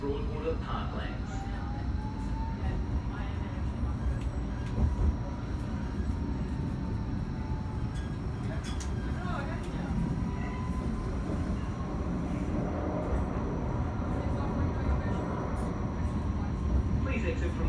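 A Gold Coast G:link light rail tram runs with a steady low rumble and rolling wheel noise, heard from inside the car, and an onboard announcement voice talks over it.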